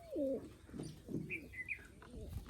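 A wild pigeon coos softly nearby inside a trap in a few low, rolling calls, with faint chirps and light rustling around it.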